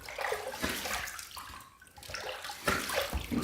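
Water runs from a tap as a Gillette Wilkinson Sword razor is rinsed, a close splashing gush that surges and dips over a few seconds.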